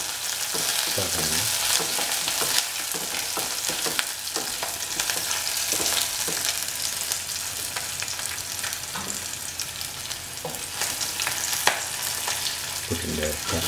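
Chilli taro root frying in a pan crackles with a loud, dense sizzle, while repeated scraping stir strokes and spatula knocks sound close throughout.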